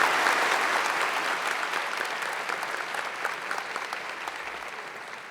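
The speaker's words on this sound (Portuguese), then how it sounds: "Aplaudamos aquele que nos fala." A church congregation applauds during a Catholic Mass after the Gospel reading, a steady, full round of clapping from many hands that fills the space and fades slightly toward the end, with no voices over it.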